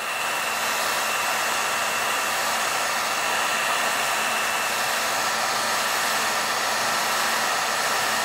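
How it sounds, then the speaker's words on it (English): A heat gun blows steadily at close range while warming tree sap stuck on car paint, an even, loud rushing hiss that holds unchanged throughout. "I'm just gonna heat it up."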